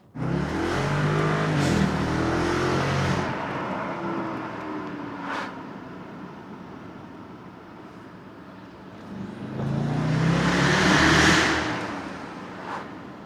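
A tuned car with an engine modified for more power accelerates hard through a 0–100 km/h run with three people aboard, its engine note climbing loudly through gears, easing off midway, then surging again in a second strong pull.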